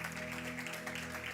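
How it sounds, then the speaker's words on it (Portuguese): A church congregation claps together, a soft, even patter of applause heard at a distance and low in level, running steadily for a moment. "Vamos aplaudir o Senhor pela vida deles"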